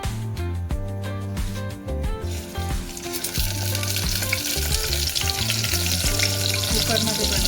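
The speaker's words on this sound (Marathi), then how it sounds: "लगेच आपण वांगे सोडणार आहोत." Stuffed brinjals drop into hot oil in a pressure cooker, setting off a loud, continuous sizzle that rises after a few seconds of background music and keeps going under the music.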